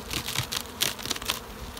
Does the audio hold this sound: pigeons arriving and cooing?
no